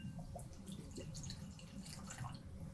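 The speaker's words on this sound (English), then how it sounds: "So let's go ahead and pour this out." La Fee absinthe is poured into a glass, a soft close trickle with light drips and splashes, quiet and unbroken for a few seconds.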